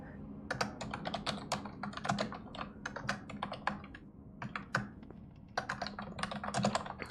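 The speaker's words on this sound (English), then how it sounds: "Sorry for the loud typing noise." Loud, close clicking of a computer keyboard comes in quick bursts with short pauses between flurries of keystrokes, and a faint voice appears now and then.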